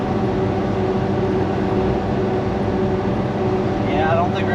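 Kei truck on 25-inch off-road tires held at full throttle near 3,900 RPM around 44–46 mph, giving a steady loud engine drone with road and tire rumble; a voice talks over it.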